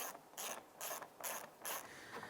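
A ratchet snugs down bolts on the bumper bracket of a 2011-2017 Honda Odyssey, giving five quick, close bursts of ratcheting clicks separated by short pauses, with no talking.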